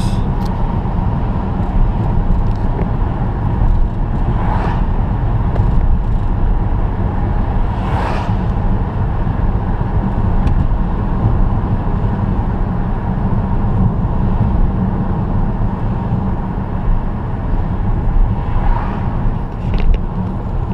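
A Volkswagen with a DSG gearbox cruises along in gear, a steady low engine and road rumble lasting throughout with faint passing swells and no talk.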